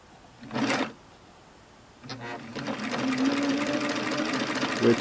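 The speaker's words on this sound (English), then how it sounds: "I just want to kind of hear the motor run and see if it can turn the hand wheel." A vintage Singer sewing machine motor whirs steadily, driving the hand wheel: a short burst first, a pause, then a longer continuous run with a slight rise near the end, close and fairly loud.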